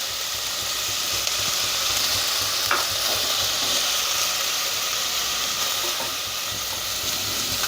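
Chopped cabbage and onion stir-fry in a hot pan for noodles, giving a steady, close, loud sizzle with occasional stirring scrapes and no talking.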